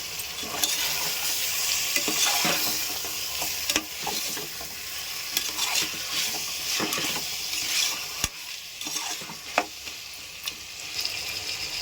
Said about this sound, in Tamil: இஞ்சி பூண்டு போட்டு நல்லா வதக்கிக்கிட்டு இப்போ கறி போட்டு வதக்கிக்கலாங்க நல்லா.